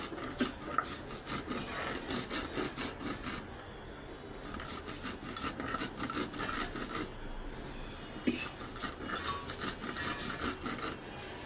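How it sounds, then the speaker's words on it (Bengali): Steady rhythmic rubbing and rasping of a lentil and vegetable bharta paste being ground finely by hand on a grinding stone, continuous strokes at close range with brief pauses and no talking. "আম্মু এখন একদম মিহি করে বেটে নিচ্ছে।"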